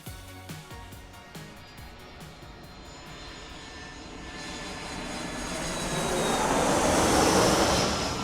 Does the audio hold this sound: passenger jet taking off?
yes